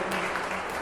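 Students at a school Maulid gathering clap in a brief, even burst of applause, moderately loud and steady for under a second.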